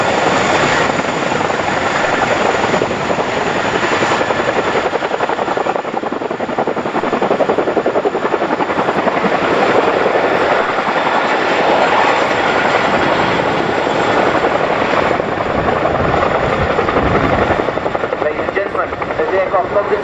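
An RAF Chinook helicopter flies at an air display, its loud continuous rotor thump and turbine roar filling the air steadily throughout, with a commentator talking over it.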